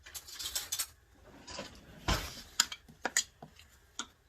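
Spoon scraping and stirring blended food inside a blender jar, a few scattered clinks and scrapes at irregular intervals, close and fairly quiet.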